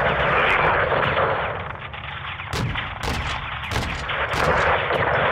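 Gunfire in Call of Duty Modern Warfare 2, with loud sustained battle noise and heavy rumble punctuated by several sharp, booming shots in quick succession, all close and dense with no talking.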